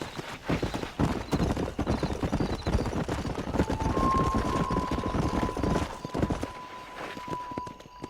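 Horse hooves galloping hard in Red Dead Redemption, a fast, loud, close clip-clop rhythm with a brief high whinny-like tone partway through.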